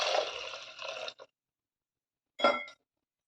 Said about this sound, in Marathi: यात टाकूया पाणी.